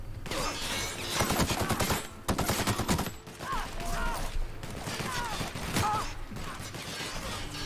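Gunfire in the video game The Outer Worlds, dense rapid bursts of automatic shots in clustered volleys with brief pauses, mixed with in-game voices and mechanical clatter.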